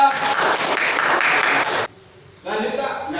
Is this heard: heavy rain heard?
no